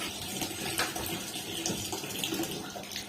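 Water from a submersible motor pump gushes steadily into a tank, a dense continuous splashing rush that stays loud and even throughout with no speech.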